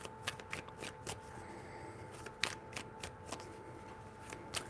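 Tarot cards being shuffled by hand in a quiet room, a run of soft papery riffles and flicks in an uneven rhythm, close and fairly faint, with a low steady hum underneath.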